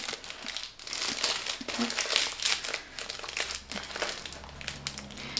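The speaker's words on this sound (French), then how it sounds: "Donc, c'est un petit bonbon. Emballage bonbon." Candy wrapper crinkled and unwrapped by hand, a close, continuous papery crackling with uneven bursts and rustles throughout, no talking.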